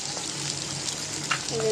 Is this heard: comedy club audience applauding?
no